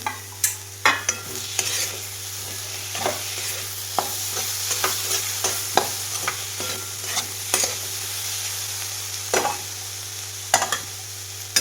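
Modak frying in oil in a kadhai over a gas flame, a low steady sizzle broken by frequent sharp scraping and clinking clicks of a spoon stirring against the metal pan.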